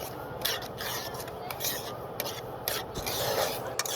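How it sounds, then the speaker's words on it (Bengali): Semolina being stirred and roasted in a pan, a steady close rubbing and scraping texture with repeated rhythmic strokes throughout, no clear speech. "সুজিটাকে আমি এরকমভাবে নাড়তেই থাকবো যাতে না সুজিটা লাল হয়ে যায়"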